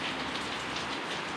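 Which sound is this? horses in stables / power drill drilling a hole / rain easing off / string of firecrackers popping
rain easing off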